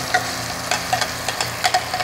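A ginger, garlic and green chili paste is stirred in a frying pan over a steady sizzle, with a utensil scraping in a loose, uneven rhythm of soft strokes close by.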